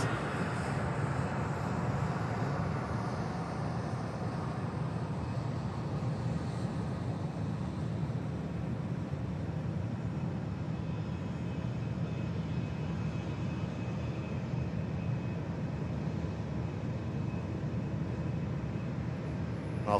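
A Qatar Airways Boeing 777 takes off from runway 23L at Manchester Airport, its engines a steady, broad jet roar heard from a distance that holds level throughout with no break.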